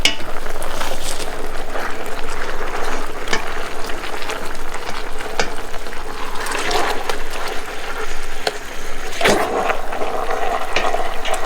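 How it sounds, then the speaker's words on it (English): Soy sauce chicken simmering in a pot, Hawaiian-style Chinese recipe: a steady, close, continuous bubbling and sizzling hiss with scattered louder pops and crackles, no voices. "It's really bubbling underneath"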